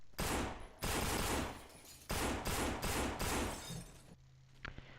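Weapons test-fired in the zombie shooter No More Room in Hell, with loud bursts of rapid gunfire in several long volleys, then a short quiet tail with a faint click.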